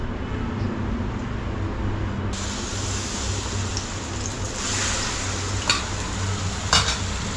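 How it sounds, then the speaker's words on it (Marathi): Jaggery melting in ghee in a pan, stirred steadily, giving a continuous soft sizzle and scraping that run throughout with a few sharper clinks near the end; no talking. "गूळ असा वितळवून घ्यायचा, म्हणजे खोबरं जास्त फिरवायला लागत नाही"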